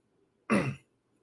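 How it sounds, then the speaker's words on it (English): A single short, rough throat clearing, close and fairly loud, in an otherwise quiet room. "you notice how I'm clearing my throat a lot?"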